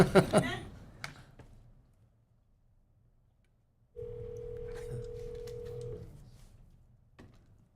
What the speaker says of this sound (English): I'm putting Crystal in from Ranson Financial Municipal Advisor on the phone